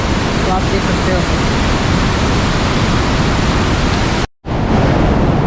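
Water pours into the large Bhimkund pool with a loud, steady rushing roar that fills the whole scene. The roar cuts out briefly near the end, then resumes.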